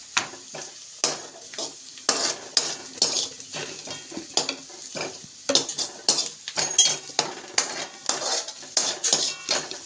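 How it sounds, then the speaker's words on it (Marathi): A spoon clinks and scrapes against a metal pan in quick, irregular strokes as turmeric is stirred for peanut chutney, with a light sizzle underneath, close and unaccompanied by speech. "थोडंसं आपण हलवून घेऊया."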